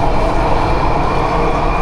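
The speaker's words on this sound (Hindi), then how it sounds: "अंडरग्राउंड मेट्रो है भाई।" A continuous loud rumbling roar of an underground metro train in Chennai, India, steady and enveloping throughout with no pauses or voices.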